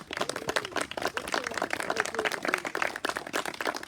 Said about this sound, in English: Let's give an applause for all the readers